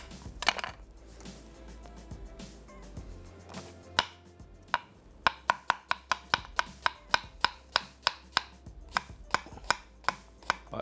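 A knife chops an onion on a cutting board, first in a few scattered strikes, then in a fast, even run of sharp, close thuds against a low background hum with music.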